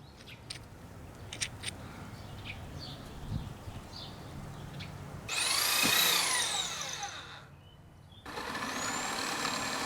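A miter saw cutting a wooden hitch post outdoors, with two loud whining blade bursts, the first swelling and fading over a few seconds, the second starting after a brief pause, over a faint background of clicks and ambient noise.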